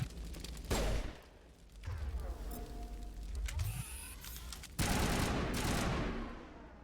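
Assault rifle gunfire in Mass Effect: Legendary Edition, bursts of rapid shots and blasts in the game, mixed with background game sounds and quiet talk.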